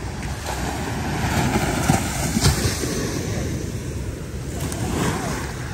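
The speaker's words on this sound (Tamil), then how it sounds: "இப்போ ஓ ரொம்ப பெரிய ஒரு அலை வருதாங்க." Large ocean waves surge and break on a shore at midnight, a steady broadband roar with swelling crashes and wind buffeting the microphone throughout, no voices.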